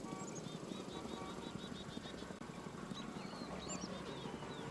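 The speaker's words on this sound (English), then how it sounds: "helicopter sounds like in Warframe 1999." A distant helicopter in the game Warframe 1999 gives a steady, low, droning rumble, with bird chirps scattered over it throughout.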